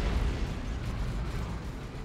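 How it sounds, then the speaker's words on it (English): An orbital bombardment in Dawn of War 2 Retribution rumbles as a dense, continuous wash of low booming blasts, steady and heavy throughout, in the thick of battle. "Orbital bombardment for Vlad."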